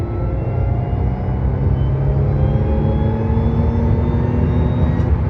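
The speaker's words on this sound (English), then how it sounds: "We're gonna do a quick highway pull. So whenever you're ready, Mr. Kevin. Fourth gear." An Audi S4 B8.5 pulls hard in fourth gear on a highway, its engine a steady, loud, droning rumble from inside the cabin with a slowly rising pitch.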